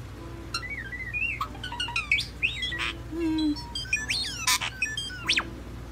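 A bird mimics robot sounds, producing a string of electronic-like chirps, whistles, rising and falling sweeps and squawks, close and clear over a low steady background hum.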